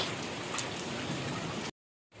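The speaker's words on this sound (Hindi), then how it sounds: "बिन मौसम बरसात हो रही है आज" Rain falls in sunshine as a steady, dense hiss of drops on surfaces, unbroken for most of its length before a short silent gap and a return.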